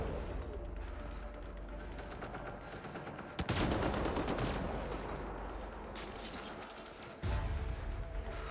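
Gunfire rattles in Mass Effect: Andromeda, a sustained burst of rapid shots with sharp, loud bursts that start abruptly, cut off, and resume.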